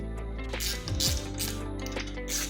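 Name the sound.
ratchet used while removing a BMW i3s brake caliper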